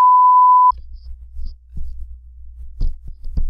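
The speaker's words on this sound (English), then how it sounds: "So since my fire alarm is gonna keep doing that" Fire alarm sounding one steady electronic beep for under a second, then a quiet room with low hum and a few soft knocks.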